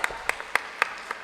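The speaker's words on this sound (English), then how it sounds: "Please give her a round of applause." Sparse, separate claps at a dental conference session, about six distinct hand claps in an irregular rhythm, fairly close and moderately loud.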